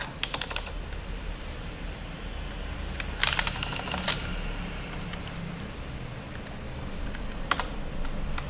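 Fast clicking of typing on a computer keyboard while a name is entered, in short bursts with pauses between them, close up and alone over a quiet room hum.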